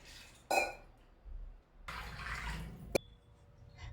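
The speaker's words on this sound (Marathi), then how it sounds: "स्वच्छ धुवून पाण्यात घालून ठेवते" Fresh paneer is rinsed and placed in a vessel of water. Two or three short splashing and pouring bursts come with a brief clink of a pot, all close and fairly quiet.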